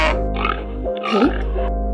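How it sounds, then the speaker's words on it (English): A domestic pig lets out a couple of short nasal oinks and grunts, moderately loud and close, against a constant low background drone. "cow, pig,"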